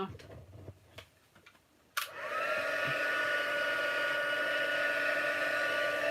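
A few taps and light handling noises, then a dryer switches on sharply to dry a stamped craft layer and keeps up a loud, steady blowing rush to the end.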